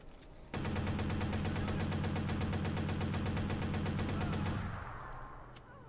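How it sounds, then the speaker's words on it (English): AK rifle fire from Watch Dogs comes as a rapid, evenly spaced automatic burst. The clipped shots ring out for about four seconds and then stop, leaving a short fading tail. "The AK sounds like a BB gun"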